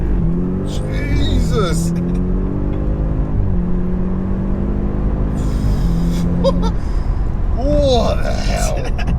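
A tuned 680bhp Audi S8 pulls hard in first gear in manual mode. Its engine note climbs loud and close, breaks off briefly at each shift and climbs again, with a man's excited exclamations over it.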